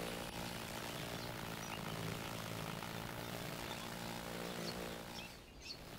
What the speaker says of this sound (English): He sounds like a chopper.